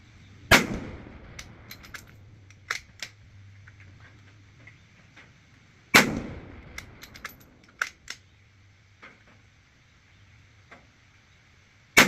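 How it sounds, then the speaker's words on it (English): Two sharp, loud rifle reports from a 6mm GT precision build fired at a 100-yard target, spaced several seconds apart, each followed by a decaying echo and scattered faint clicks and taps. "We're shooting at 100 yards."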